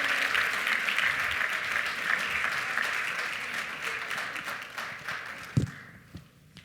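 A banquet crowd applauds at a school celebration dinner, sustained clapping that gradually thins and fades out near the end, with a single louder knock or tap.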